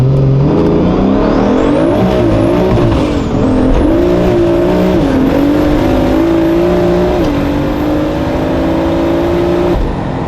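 A single-turbo BMW F80 M3 pulls hard in first gear with a boost limiter engaged. The engine revs rise steadily and loudly from close range, with wheelspin. The sound continues without pause for the whole stretch, and there is no talk.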